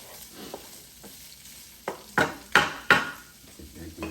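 Fried rice with Spam cooks in a Power XL cooker, a soft background sizzle broken by several sharp scraping and clattering stirs of a utensil against the pan.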